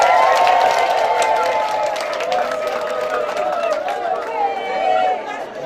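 Crowd applause and cheering at a health centre event, lively clapping mixed with loud voices, chatter and calls rising and falling over several seconds.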